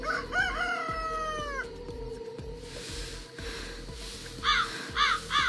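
A rooster crows in an AI-generated cartoon, with several drawn-out calls through the first seconds, then shorter bird calls near the end over a steady, busy backdrop. No one speaks.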